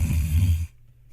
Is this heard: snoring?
yes